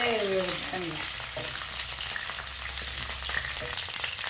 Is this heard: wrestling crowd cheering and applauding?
no